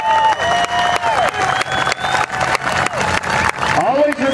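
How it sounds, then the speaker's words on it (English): Crowd applause and cheering at a limited modified truck and tractor pull event, loud and sustained with a PA announcer's voice and engine tones running over it. "how about a great big round of applause for our service people"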